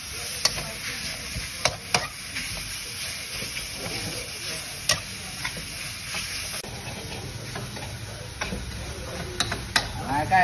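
Wild boar meat being stir-fried in a pan, a steady hissing sizzle with scattered sharp scrapes and taps of the utensil against the pan, close and moderately loud, with no talk.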